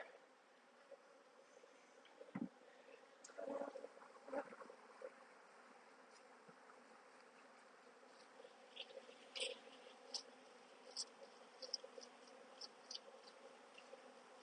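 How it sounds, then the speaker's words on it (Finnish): Honey bees around a hive make a faint, steady insect buzz, with small taps and rustles as the hive is worked, and no voices. "mehiläiset on tällaisia lauhkeita kuin lampaita"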